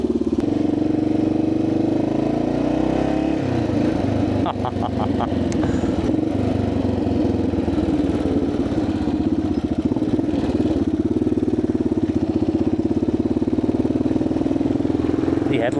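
A 1985 Yamaha XT600 single-cylinder motorcycle runs steadily on a ride, its thumping engine loud and close throughout, with a shift in tone partway as it pulls away.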